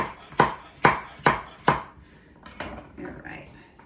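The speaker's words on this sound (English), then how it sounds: "I'm just gonna put all the veggies that I'm chopping in one bowl, except the garlic." A knife chops vegetables for chicken orzo soup on a cutting board: four crisp, evenly spaced thuds, then softer, quicker cuts, close by with no talking.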